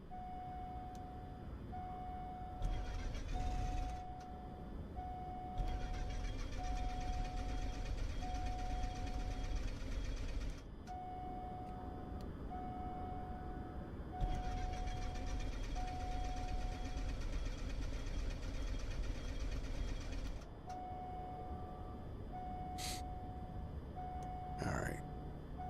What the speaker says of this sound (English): just crank the engine.